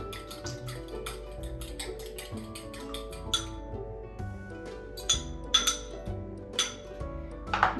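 A fork or whisk beating eggs in a bowl, with rapid close clinks and ticks of metal against the bowl in an uneven rhythm alongside a low background hum.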